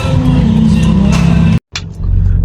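A car engine revs loudly with a steady rumbling drone, cuts out abruptly for a brief moment, then picks back up with a low hum.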